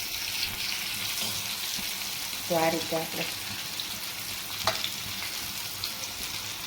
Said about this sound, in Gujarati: તેલમાં મસ્ત રીતે બધાય તો તળાઈ જાય છે એકદમ